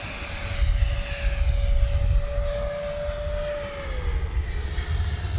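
A Freewing F-15 RC jet plane with 90mm ducted fans in flight, a continuous high whine with a steady tone that slides down near the end, over a low rumbling drone and wind-like noise, moderately loud with no talking.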